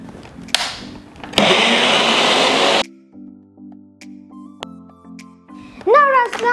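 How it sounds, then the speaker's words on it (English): A kitchen blender whirs through a cantaloupe smoothie in one loud, steady burst of about a second and a half, then cuts off, leaving quiet tones and brief talk afterward. "Now I'm going to place the lid on and blend it up."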